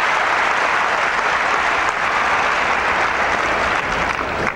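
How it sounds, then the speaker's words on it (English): Standing ovation for figure skater Scott Hamilton at the 1990 U.S. Open Professionals, a dense, sustained roar of arena applause from a large crowd, steady and loud for the whole stretch. "And a standing ovation for Scott Hamilton."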